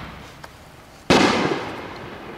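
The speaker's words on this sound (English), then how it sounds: "Just heard some fireworks going off here too." A single sharp firework bang bursts out partway through, leaving a loud crackling, hissing tail that lingers to the end after a quiet stretch.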